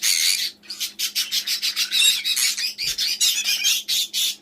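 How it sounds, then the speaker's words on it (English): A pet bird squawking loudly and close by, a long run of harsh, rapid, raspy calls in a steady pulsing rhythm. "He's a baby bird."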